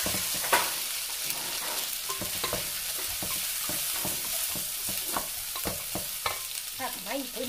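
Vegetables and parboiled instant noodles with shiitake mushrooms stir-fry in a pan, a constant sizzling hiss broken by repeated scraping and clattering strokes of a spatula, close and busy, with no talking.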